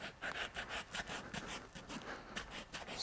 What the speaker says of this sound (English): Now I'm going to sand the boot.